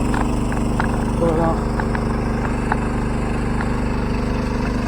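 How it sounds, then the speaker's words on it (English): A gold dredge engine runs in a steady, loud, close mechanical drone with an unbroken rumbling idle that fills the whole stretch. "But get away from that dredge a little bit, maybe it'll get a little quieter."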